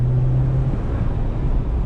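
A 2021 Jeep Wrangler 80th Anniversary Edition accelerates off-road, its engine giving a loud low rumble with a brief steady tone early on, then rough broadband noise.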